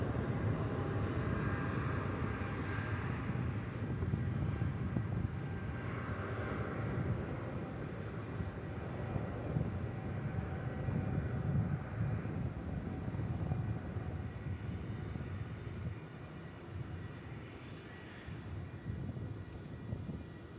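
A heavy jet airliner taking off at Dallas Fort Worth International Airport, a sustained broad engine roar heard from a distance, steady and rumbling throughout with no talk over it.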